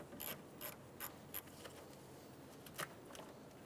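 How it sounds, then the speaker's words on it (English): A 10mm socket ratchet clicks in a few quick, faint bursts while loosening the negative battery terminal on a 2007-2011 Toyota Camry 2.4L, with short metallic ratcheting over a quiet background. "Using a 10mm socket, loosen the negative battery terminal."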